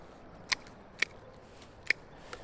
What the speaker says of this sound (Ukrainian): Ось ці всі гілочки обрізаємо.